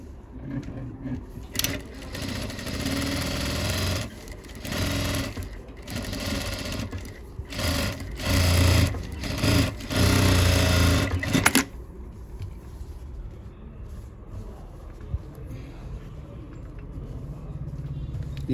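A sewing machine stitches the lining of a pattupavadai in close, rapid bursts of rattling stitches broken by short pauses, then falls quiet while someone talks.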